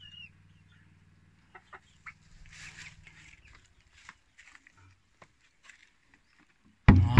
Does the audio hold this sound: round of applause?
no